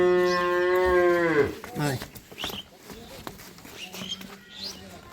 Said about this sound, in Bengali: একটা চমৎকার গরু দর্শক ভাইরা ভালো করে দেখুন গরুটা